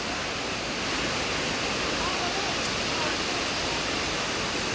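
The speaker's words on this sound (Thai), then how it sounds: "ได้ยินแต่เสียงฝน" Heavy rain pours down during a storm in Laos, a dense, continuous hiss that stays steady and loud from start to finish, with no voices on top.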